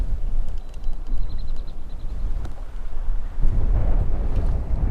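Strong wind buffets the microphone on a lake, a loud continuous low roar with gusting surges, water and boat noise mixed in, and no one talking.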